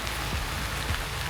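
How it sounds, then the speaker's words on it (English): Rain falls steadily on surfaces outdoors on a morning in Bali, a continuous close hiss with a few soft drop patters, no voices. "It's raining."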